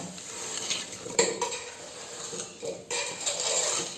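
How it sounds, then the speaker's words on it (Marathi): A brinjal, potato and tomato curry is stirred in a pan with a metal spoon, giving scraping clinks against the pan over a soft sizzle, close and clear, with no talking. "आता सर्व ढवळून घ्यायचं बघा."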